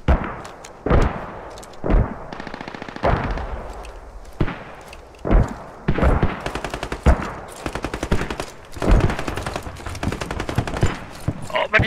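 Rapid automatic gunfire in the military shooter game Squad: repeated loud bursts and single cracks, some close and sharp, others more distant, rolling over a steady battlefield din with possible voices underneath.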